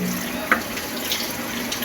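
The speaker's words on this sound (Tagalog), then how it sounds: "Banlawan ang sponge." Dish sponge rinsed under a running kitchen tap, a steady close rush of water splashing into the sink with one brief squeeze or splash near the middle.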